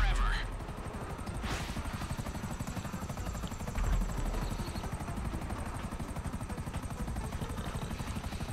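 Helicopter rotor in Grand Theft Auto V beats in a fast, steady chop throughout, loud and close, with brief gunfire-like bursts and player voices chatting over it.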